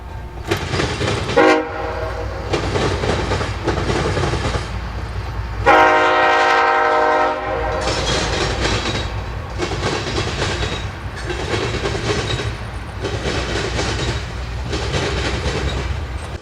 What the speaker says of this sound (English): Looking south from Merrill Street on the UP, we catch a short eastbound as it heads through.